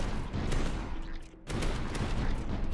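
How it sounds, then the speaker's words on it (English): Heavy, rumbling blasts from defensive towers in the strategy game Tower Dominion roll on in a dense, continuous barrage, dropping briefly before resuming at full loudness. "it seems to be a slower, heavier explosion"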